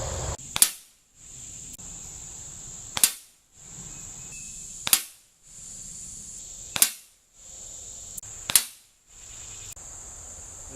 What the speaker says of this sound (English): I'm going to be using the 177 caliber for this test because of the flatter trajectory.